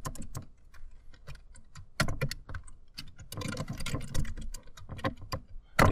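Computer keyboard being typed on while writing code for a Node.js config file, with irregular bursts of close clicking keystrokes, quick flurries and short pauses, and no talking.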